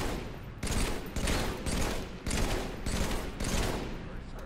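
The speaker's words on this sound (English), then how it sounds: "so Austin, follow the sound of my battle rifle" Battle rifle gunfire in Halo 3 on the Crow's Nest map, a series of loud repeated bursts in a steady rhythm of roughly half-second groups, dense and continuous over the game's background din.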